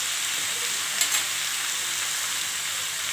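Fruit chutney with lemon, pomegranate, salt and turmeric cooks in a pan, giving a steady hiss of sizzling with a brief scrape of stirring near the start, close and fairly quiet.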